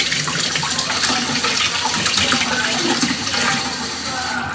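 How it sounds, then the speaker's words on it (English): Cold water runs from a kitchen tap into a pot used for cooking Alfredo pasta, a steady close rushing splash lasting the whole moment with no talking. "Then I'm gonna put some cold water and I'm gonna see if this is ready."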